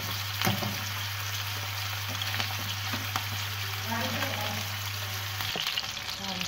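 Chicken pieces pan-frying in hot oil give a steady, close sizzle and crackle with occasional pops, continuous throughout with a low hum underneath.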